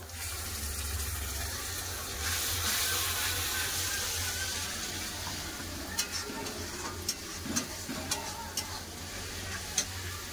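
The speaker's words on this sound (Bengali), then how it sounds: "এবার বেটে রাখা টমেটো দিয়ে দেবো, বেটে রাখা টমেটো।" Ground tomato hits a pan of frying onions for chole with a burst of hissing, followed by steady sizzle and a series of sharp stirring clicks and taps.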